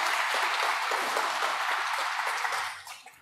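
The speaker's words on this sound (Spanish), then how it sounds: "Un aplauso para Dios que ilumina nuestra vida con su palabra." A Catholic congregation at Saturday Mass applauds in praise after the Gospel reading, a full, even burst of clapping that tapers off at the end.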